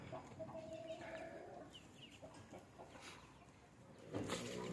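Two-month-old Australorp chicks give faint, scattered high chirps and soft clucks over a quiet, noisy farmyard background, with a louder rustle near the end.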